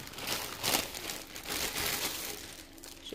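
Crinkling plastic envelope pouches being handled and cut open with scissors, a series of close, dry crackling rustles with brief louder crunches, without speech.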